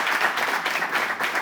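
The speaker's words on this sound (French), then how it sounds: "Applaudissez pour vous-même." An audience at an event claps together in a dense, even patter of many hands, sustained at moderate loudness for the whole short stretch without voices.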